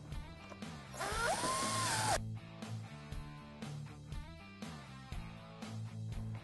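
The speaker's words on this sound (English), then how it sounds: "use the screws that provided to mount it" A power drill briefly whirs close by, driving screws to mount a rear tail light on an E-Z-Go TXT golf cart body, followed by quieter handling and tool clicks.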